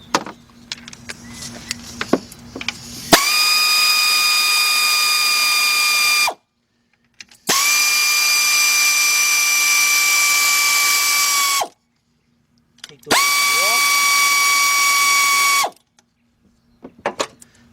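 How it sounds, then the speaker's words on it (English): An air ratchet fitted with a 10 mm deep socket spins nuts on a car engine, running in three sustained high-pitched whirring bursts with short silent pauses between them, loud and close. "Let me get my air ratchet."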